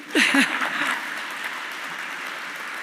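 Awards ceremony audience applauding, a burst of clapping with a short spoken phrase at the start, then steady moderate hand claps that hold at an even level to the end.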